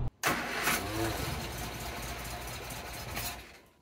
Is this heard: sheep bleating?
no